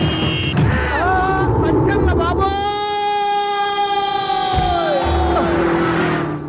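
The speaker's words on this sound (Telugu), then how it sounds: "హార్న్ ఎట్టండి బాబు, సైరన్నే కొట్టాడు" A siren wails through a film comedy street scene where a horn was expected, rising and holding in long tones as crowd noise and voices talk over it.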